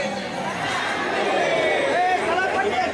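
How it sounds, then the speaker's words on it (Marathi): Dense crowd chatter at a busy Kolhapur temple, many overlapping voices forming a steady, loud hubbub with no single speaker standing out. "जाम गर्दी, खूप गर्दी आहे ना"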